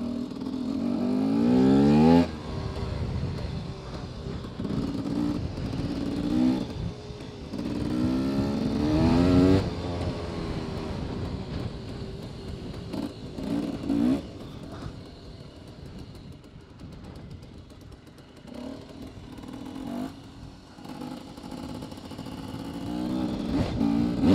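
A KTM motorcycle ridden on roads to go shopping, its engine droning loudly and close with repeated revving surges and gear changes, the sound falling back to a steadier hum before rising again.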